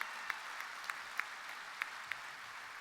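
A convention hall audience at the International Moose Convention gives sustained, even applause, a wash of many hands with a few sharper claps standing out, heard at a moderate distance and fairly quiet.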